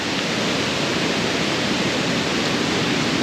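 Mae Sa waterfall in Chiang Mai rushes in a steady, loud, broadband roar, close by and unbroken, with no talk over it.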